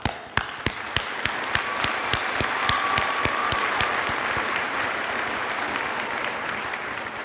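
Applause from an audience at a North County high school graduation ceremony in 2014: one nearby clapper strikes sharp, evenly spaced claps over a steady wash of crowd clapping that thins toward the end.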